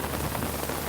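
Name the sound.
rain falling outside a house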